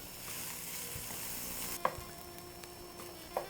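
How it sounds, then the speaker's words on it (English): Chopped onion sizzling in olive oil in a sauté pan, a steady close frying hiss with two brief clinks of utensil on pan. "I had chopped 1 large onion that we will sauté until brown."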